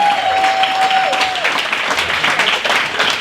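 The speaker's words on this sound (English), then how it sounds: "Let's give a round of applause for all of our Kathy Ellington Award nominees" Loud, dense applause from an awards-ceremony audience honoring Kathy Ellington Award nominees, a sustained roar of many clapping hands with a brief tone fading at the start and no speech over it.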